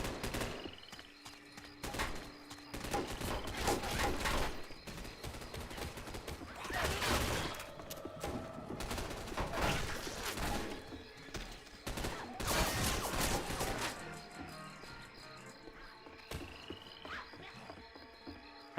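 Video game shootout with repeated gunfire bursts, loud and close, coming in irregular volleys over a busy background of game sound effects.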